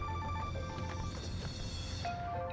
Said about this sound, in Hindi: मेरा फोन बार बार बज रहा है।